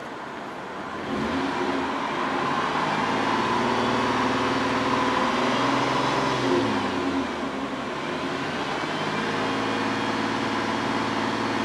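A car with a camshaft position sensor circuit fault revs up from idle. The engine climbs and holds at higher RPM, falls back briefly, then rises again with a steady droning tone close by.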